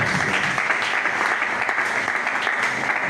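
Church congregation applauding and cheering in a steady, dense wash of clapping that fills the whole moment without pause.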